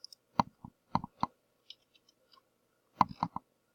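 Computer keys are typed in short clusters of sharp, close clicks with a brief pause between groups, in an otherwise quiet room.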